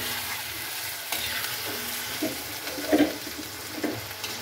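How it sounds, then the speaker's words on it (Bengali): Warm water poured into a hot pan in a home kitchen while cooking hilsa fish with taro stolons, giving a soft steady sizzle with faint stirring and a few bubbling pops, close by with no talk. "এবার অল্প একটু উষ্ণ গরম জল এর মধ্যে দিতে হবে।"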